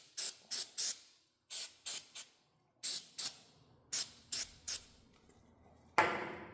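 An aerosol can of starting fluid sprays bolt threads on a truck steering and brake build. Short hissing bursts come in clusters of two and three with pauses between, close and fairly quiet, followed by a brief louder rustle.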